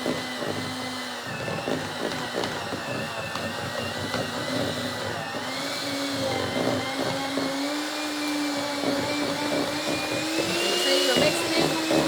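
An electric hand mixer whirs steadily through a cheeseball mixture in a bowl, a continuous droning motor hum with slight pitch shifts as it works, close and loud throughout.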